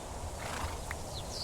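Horse sounds in the Minecraft TerraFirmaGreg modpack: a faint, brief whinny-like cry and soft hoof clip-clop over a low ambient game background, no talking.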